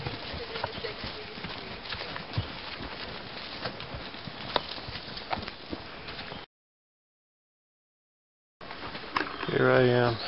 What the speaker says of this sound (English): Here I am, riding a horse.